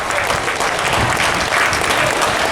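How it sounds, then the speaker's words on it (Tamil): Loud, dense applause from an audience at a TDMNS College Kallikulam alumni reunion, with steady clapping filling the room throughout without a break. "ஜோர் எல்லாம் கைத்தட்டுங்க"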